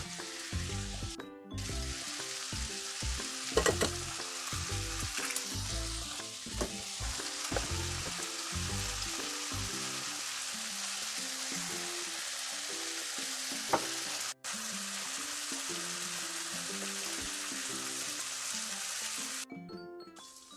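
Vegetables fry in a pan with a constant close sizzle, broken now and then by stirring scrapes and clatters, continuing with no talk.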